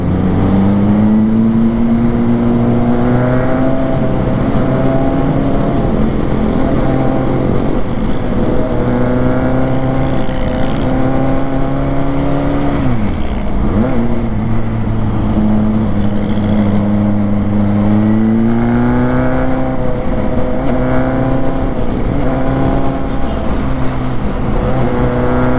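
A 600cc motorcycle engine rumbles loudly and steadily, revving up and accelerating with rising pitch, dipping briefly midway before climbing again, all close and without talk.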